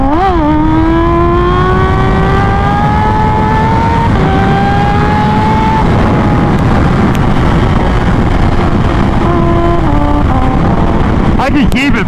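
A Kawasaki Ninja H2 motorcycle engine drones loudly and steadily, its pitch climbing, dipping at each gear shift and climbing again, with heavy wind rush throughout.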